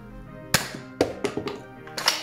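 An old Elite foam dart fired from a Nerf Alphastrike blaster gives a sharp, close thunk, followed by a few lighter mechanical taps and clicks as the blaster is handled, then another sharp thunk near the end.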